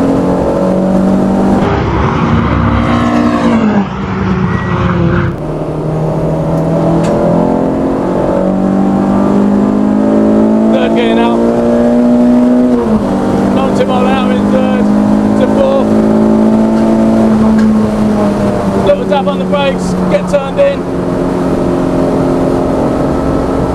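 A Renault Sport Clio 172 race car engine revs and climbs in pitch as it builds speed on a track, loud and close, with brief gear shifts and engine roar throughout.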